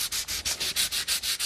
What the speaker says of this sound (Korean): 이럴 경우엔 사포로 투명 유성 도료를 닦아내 농도를 조절한다.